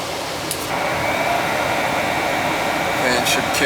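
A gas furnace in a space-heating unit runs with a steady broadband blower roar throughout, with faint brief clicks and a slight swell near the end as it kicks on and fires.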